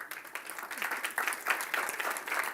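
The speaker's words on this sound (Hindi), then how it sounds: "तुम्हें शॉर्टकट चाहिए इसलिए ताली मार रहे हो" Scattered applause from a lecture audience at a Bhagavad Gita discourse, a fairly steady patter of clapping that rises and falls, with no voice over it.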